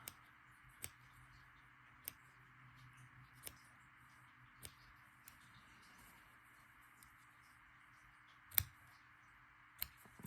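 Small, crisp snips sound about every second or so, sparse and fairly close, over a faint steady hum.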